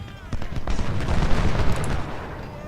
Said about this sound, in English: He already fired once, so let's see. He's going to fire again.